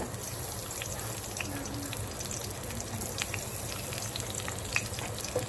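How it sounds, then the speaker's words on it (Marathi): Ridge gourd pieces frying in oil with leftover masala in a wok, giving a steady, continuous sizzle at close range with occasional small pops and crackles, no talking. "दोन तीन मिनटं तेलामध्ये हे दोडके असेच फ्राय करायचे आहेत आपल्याला"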